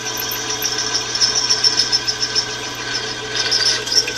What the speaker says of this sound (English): we're just going to go on around and drill through our flywheel